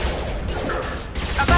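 Rapid gunfire rattles during a combat scene in Mass Effect 2 Legendary Edition, with loud clattering bursts and impacts layered over steady game ambience.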